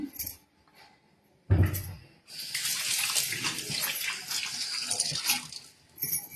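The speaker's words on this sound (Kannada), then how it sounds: "ಕೈಯನ್ನು ತೊಳ್ಕೊಂಡು ಬಿಡ್ತೀನಿ" Hands being washed under a running kitchen tap, a close steady splashing of water that starts abruptly after a quiet moment and continues with a brief pause near the end.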